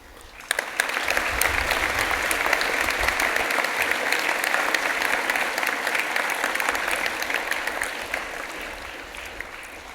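A large audience at an archbishop's launch event claps in sustained, even applause that swells quickly and holds steady before easing slightly at the end.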